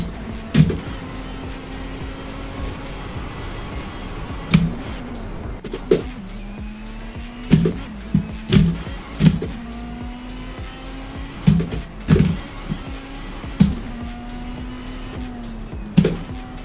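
A sports car in the Assetto Corsa racing game drives hard through heavy traffic. Its loud exhaust drones steadily and rises and falls with each gear change, and sharp pops and clunks repeat over the engine tone.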